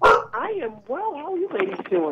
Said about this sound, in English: So if you hear any canines in the background, that's what's going on here.